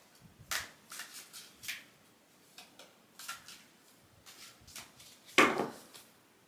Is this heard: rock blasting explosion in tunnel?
no